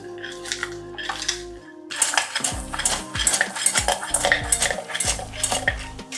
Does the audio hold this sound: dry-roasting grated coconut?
yes